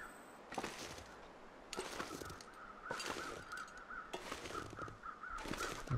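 A crow near a crash site in the survival game The Long Dark gives four loud, harsh caws spaced about a second apart. A faint steady tone and a low background hum run underneath.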